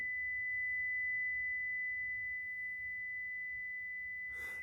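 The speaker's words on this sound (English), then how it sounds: "Let's give it an actual proper tone from an audio function generator. So that's a sine wave" A steady, pure sine-wave tone from an audio function generator holds unbroken throughout over a faint low hum, ending with a brief burst of noise.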